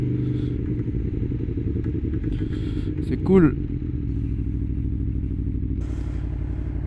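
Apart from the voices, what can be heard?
motorcycle riding on road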